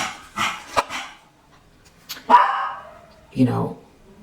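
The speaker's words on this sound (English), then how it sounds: "Okay, barking is done." A few sharp dog barks ring out close by, mixed with bursts of talking, then a pause before one more bark-like yelp.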